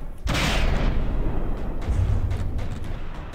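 A heavy boom of weapon fire erupts in the naval combat game From the Depths, a sudden loud blast followed by a rumbling decay and a second low thud.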